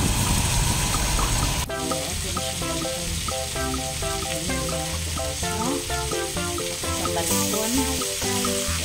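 Chicken pieces fry in a pan for pininyahang manok, a loud steady sizzle and crackle close up that carries on throughout with scattered pops and clatter, no speech.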